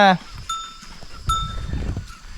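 On a farm in Ngoi, Laos, a short goat bleat opens, followed by ringing bell tones and shuffling, rustling noises nearby.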